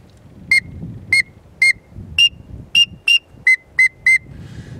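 Nine short, sharp pips from an acrylic teal duck whistle imitate a drake teal, spaced in a quick, slightly uneven rhythm over faint outdoor background noise, close and loud.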